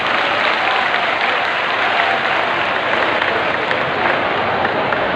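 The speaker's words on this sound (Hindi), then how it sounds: "एक बार तालियों से उनका आभार व्यक्त करते हैं" A large crowd at a religious discourse gathering claps together in thanks, producing a dense, continuous wash of applause at steady loudness for about five seconds.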